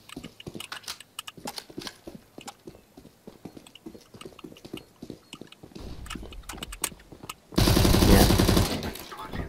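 Sharp gunshots in a Counter Strike match crack out in rapid, uneven bursts, close and punchy, followed by a louder sustained burst of fire near the end, with a voice briefly talking between shots.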